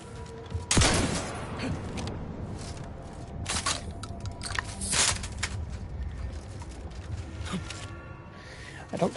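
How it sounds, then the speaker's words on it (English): Shotgun blasts in The Outer Worlds 2, a sharp boom near the start followed by several more shots at irregular intervals over a steady game backdrop. "we'll try out this here shotgun"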